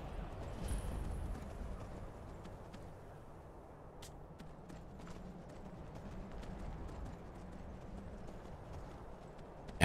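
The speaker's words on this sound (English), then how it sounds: "Every time I get on the horse and gallop," A horse gallops in the Skyrim video game, a faint, steady run of hoofbeats under a soft background wash, with no talking.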